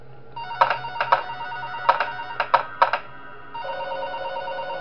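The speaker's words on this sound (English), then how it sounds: "And we get a phone call, obviously." Telephone ringing in the Five Nights At SMG4 video game: six loud, sharp electronic rings in three quick pairs over a steady background hum, followed by a sustained tone.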